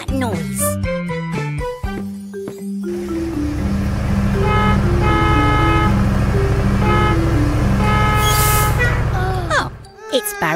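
A cartoon bus sounds its horn in a children's animated garage show, several bright toots over jingly music, with a voice in the mix.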